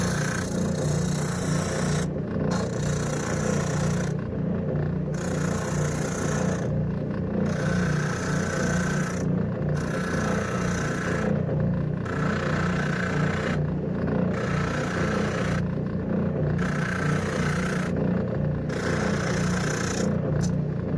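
A wooden replica tire rim gets sanded, a rhythmic back-and-forth rasping of about ten strokes over a steady low hum, each stroke separated by brief pauses.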